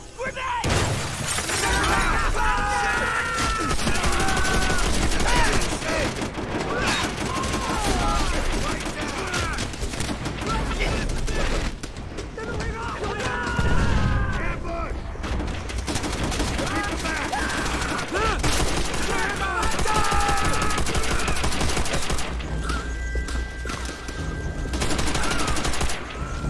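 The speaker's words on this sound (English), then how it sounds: "Grenade!" Combat in the World War II shooter game Call of Duty: World at War, with a grenade blast and bursts of rifle and machine-gun fire rattling loudly and continuously throughout, under shouted voices.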